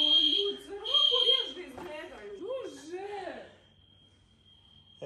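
A fire alarm sounding during a fire drill in Dubai gives loud, high electronic beeps in short bursts, with people talking and laughing over it before the tone settles to a faint steady whine.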